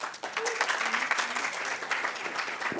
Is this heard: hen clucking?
no